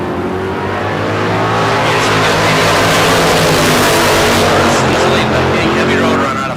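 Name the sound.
red 1967 Chevelle drag racing car engine revving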